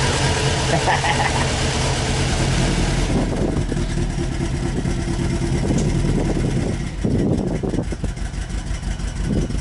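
A Subaru's swapped JDM engine rumbles steadily up close, idling with a deep, rough tone and a few revs, while people talk loudly over it.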